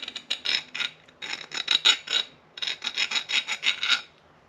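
A hand file rasps over the sharp edges of a milled metal handle in quick bursts of close, scratchy back-and-forth strokes, with two short runs of strokes separated by brief pauses.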